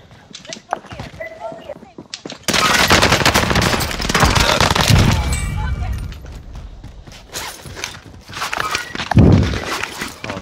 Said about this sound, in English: this guy's shooting at me